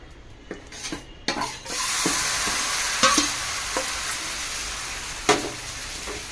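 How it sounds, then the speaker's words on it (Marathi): Wheat pancake batter hits hot ghee in a home kitchen pan and fries with a steady close sizzle, broken by a few sharp scrapes and knocks of a utensil against the pan. "आता टाकायचं त्याच्यामध्ये थोडंसं घी."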